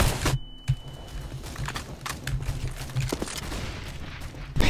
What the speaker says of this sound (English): I shot Tanuki through smoke with an auto.